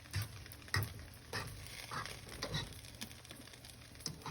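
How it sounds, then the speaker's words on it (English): Cooked rice being fluffed and stirred in a pot on the stove, with soft scraping, patter and light sizzling in irregular strokes, close and moderately quiet with no talking. "I always fluff the rice"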